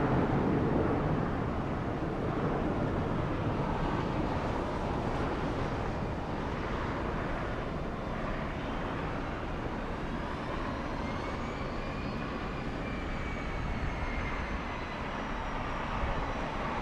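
A Lufthansa airliner taxis toward Tom Bradley International at LAX, a steady broad jet engine roar mixed with wind rumble, continuous and moderately distant, with no talk.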